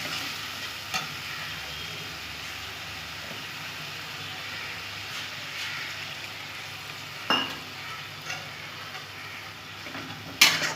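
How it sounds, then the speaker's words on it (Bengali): Chicken masala with Kashmiri chilli and slit green chillies sizzles steadily in a pan while being stir-fried, with a few light spatula scrapes and knocks rising above the frying. "ভালো করে মশলাটা কষে নেব।"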